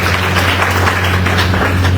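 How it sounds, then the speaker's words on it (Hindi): An audience applauding at an education minister's public address: steady, dense clapping from a large crowd that continues throughout, with a low electrical hum beneath. "अपने लिए तो ताली बजाइए।"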